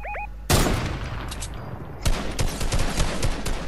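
Gunfire in an online shooter game during a duo match: one loud burst opens, then rapid, repeated sharp shots crackle close and hard through the second half, with no talking.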